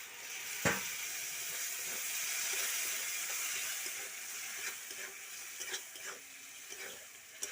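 Water poured into a hot pan of chicken with chili, coriander powder and other spices sets off a loud, steady sizzling hiss. A sharp crack opens it, and faint stirring ticks follow, with no talk.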